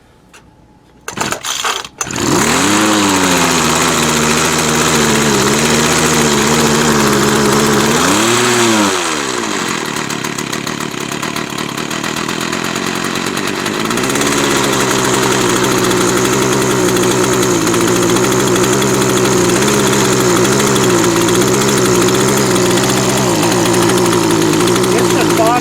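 A small gasoline engine that bogs under throttle sputters to life after a few pulls, then idles loudly up close with one rising and falling rev before settling into a buzzing idle with slight pitch wobble.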